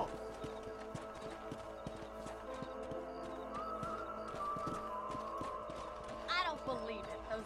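Horse hooves in the video game Red Dead Redemption, a steady clip-clop of trotting alongside game ambience, with a brief whinny near the end.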